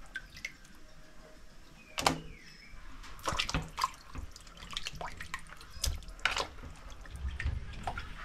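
Water from a tap splashing and dripping into a sink while cleaned fish are washed, with irregular close splashes and clatters against a quiet background.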